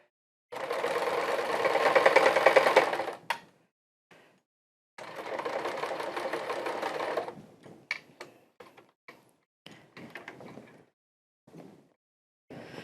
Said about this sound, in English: I'm going to come over to the other side and I'm going to stitch it over there too